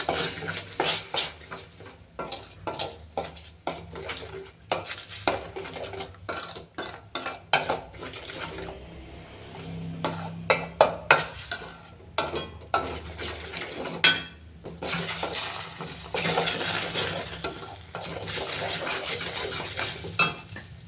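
Repeated scraping and clinking of a utensil against a bowl while salt is mixed into an egg and potato mixture, an irregular rhythm of stirring knocks at moderate volume with no talking.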